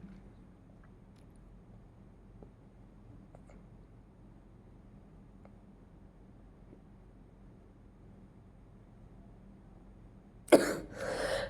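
A single loud, close cough breaks out near the end after a long stretch of near-silence with faint room noise, followed by a brief rough throat sound.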